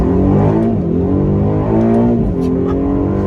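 A 2024 Aston Martin DB12 revs hard up close, its engine roaring loudly with rising and falling pitch as it accelerates.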